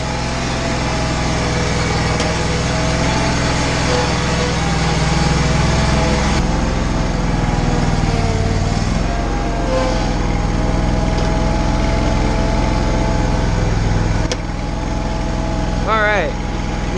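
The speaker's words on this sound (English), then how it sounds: "let's fire this thing up. See if it'll start at idle. Look at that. Fires right up." An Exmark Lazer Z mower's engine idles just after a cold start, a loud, close, steady motor drone running the whole time, with a person talking over it.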